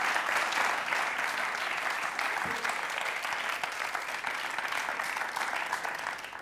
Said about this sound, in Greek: μέσα σε χειροκροτήματα υποστήριξης